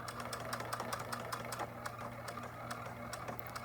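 A sewing machine stitches quilt binding around a corner, a steady rapid mechanical patter with a low motor hum running continuously, close and fairly loud with no voices.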